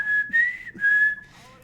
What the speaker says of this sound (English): I'm not the only one whistling.